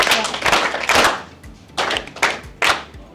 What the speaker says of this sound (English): Please let's give her 3 claps.